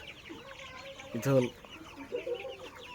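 Sonali super hybrid chickens cluck briefly on a farm, a short burst of loud clucking standing out from a soft background of distant birds, with someone speaking briefly.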